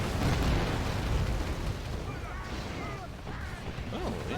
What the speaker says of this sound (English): And of course the Hellions are back with thermal barrage.